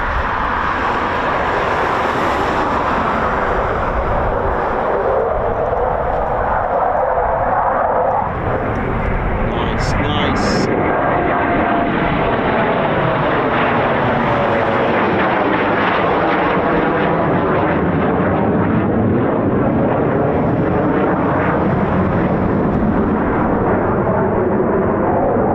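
A Eurofighter Typhoon FGR4 jet roars low over the runway at RAF Coningsby, a loud sustained broadband engine blast that sweeps and shifts in pitch as it passes, with a voice talking over it.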